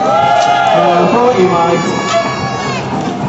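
A crowd at an outdoor trials bike demo cheers and shouts loudly and steadily, with a voice talking over the noise.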